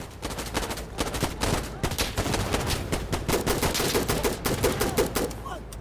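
Gunship minigun fire in the shooter Insurgency, rapid loud bursts of automatic fire rattling continuously in dense, rhythmic volleys with brief gaps, close and heavy throughout.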